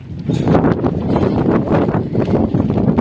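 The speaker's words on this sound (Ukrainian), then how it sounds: "Ой, вітер холодний." Steady cold wind buffets the microphone outdoors beside a greenhouse, a continuous, loud low rumble with gusty swells, no voices.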